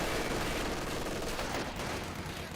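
Sustained rattling MG42 machine gun fire in the video game Company of Heroes 2, a dense, continuous burst mixed with other battle noise, steady and loud throughout.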